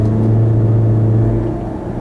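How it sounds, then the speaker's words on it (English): A 2012 Range Rover Evoque's turbocharged 2-liter four-cylinder engine pulls under acceleration, a steady low droning rumble heard from inside the cabin with no talking. "So this car has a turbocharged 2-liter 4-cylinder motor. And let's give it a go and see how it is."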